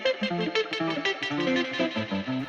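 Pitch-shifted whammy guitar sample run through wacky delays and modulation effects, a warbling, chorused run of short bending notes with echoing tails, close and fairly loud.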